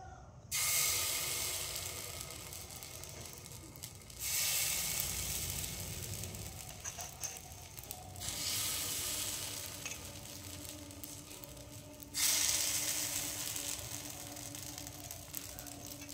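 Chitai pitha batter cooks in an oiled clay pan set on a gas stove, giving a steady sizzling hiss that swells louder in several stretches and eases back between them, with no voices.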